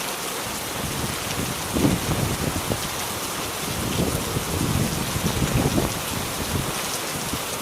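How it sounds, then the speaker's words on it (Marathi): Steady rain pours on the Kalsubai trek in Maharashtra's mountains, a dense, unbroken wash of drops hitting surfaces with slight swells throughout. "पावसाची रीतरीत तर थोडीही विश्रांती घेत नाही."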